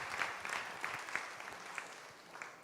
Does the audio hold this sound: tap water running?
no